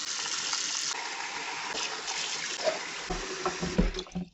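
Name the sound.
cold water poured onto boiled green plantain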